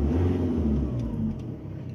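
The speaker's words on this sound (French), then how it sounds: "je vais essayer déjà de lui mettre un petit coup d'accélérateur" A car engine's accelerator is blipped at a club championship event, giving a short rev that rises and then drops back toward idle, heard up close with no talk.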